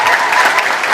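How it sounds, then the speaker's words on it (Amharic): A large church audience claps for children, a dense, loud, continuous burst of applause filling the hall. "አጨብጭቡላቸው ለነሱ።"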